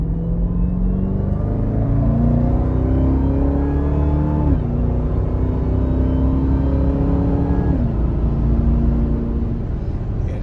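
A Jeep Trackhawk fitted with an LMI Legmaker cold air intake revs from inside the cabin with the windows closed, a loud rumbling drone whose pitch climbs in steps between shifts, with a faint intake whine above it.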